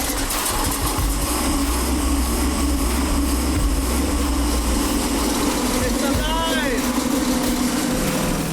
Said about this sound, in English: The motor not only fired right up, it ran noticeably cooler